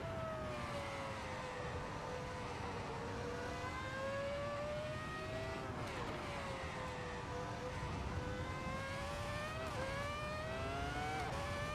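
A car driven fast around the Nürburgring, its engine a steady loud drone that rises and falls in pitch through the corners, heard continuously for about twelve seconds with no talk.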